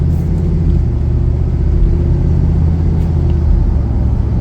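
Steady, loud low engine rumble and road drone from inside a Ford F-450 XL regular-cab chassis truck with a Supreme box body on a test drive, continuous and even throughout.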